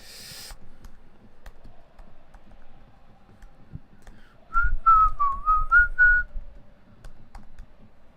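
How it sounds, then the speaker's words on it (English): Soft keyboard typing ticks away faintly in the background while someone whistles a short wavering melody loudly in the middle. "typing away here"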